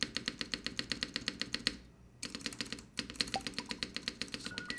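Spacebar on a keyboard fitted with QMX stabilizers, pressed in a steady rapid rhythm of close, clacky thocks, pausing briefly twice before resuming, with no talking.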